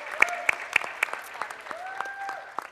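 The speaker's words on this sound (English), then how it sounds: "let's give all of our guests a big round of applause" A small group claps steadily, quiet and slightly distant, with a voice speaking softly over the clapping.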